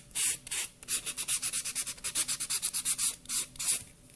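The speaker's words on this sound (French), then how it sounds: "passer ma ponce comme ceci sur tout mon ongle pour enlever la brillance" A nail buffer is rubbed back and forth over a fingernail to remove its shine. Quick, close, rhythmic scratchy strokes repeat about five times a second, with short pauses between runs.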